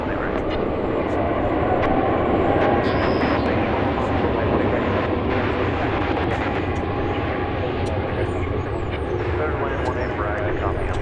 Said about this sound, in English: two wide bodies, a 767 and a 787